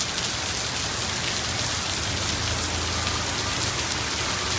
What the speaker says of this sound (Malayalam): ഇപ്പോൾ നല്ല മഴ പെയ്തു.